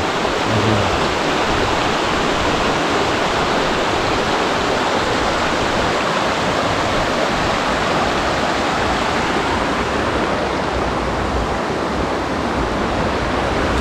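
The Solonaya River in East Kazakhstan rushes steadily and loudly, a constant broadband roar with no voices or pauses.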